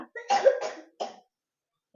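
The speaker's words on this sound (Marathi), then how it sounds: "माझ्या खूप खोकला झाला" A child coughs close by, two quick bursts then a third after a short pause, followed by quiet.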